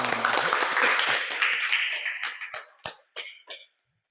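A classroom of students claps together during an Islamic studies lesson. A dense burst of clapping thins into a few scattered, separate claps before stopping.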